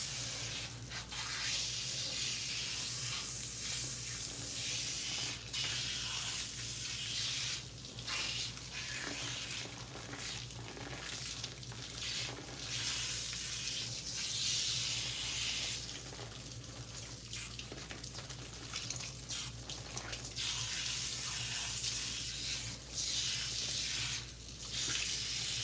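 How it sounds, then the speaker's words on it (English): Tap water pours steadily over hair as it is rinsed, a continuous broadband splashing hiss lasting throughout with small shifts in flow and a low hum beneath, no talking. "All right, so I'm going to rinse my hair out."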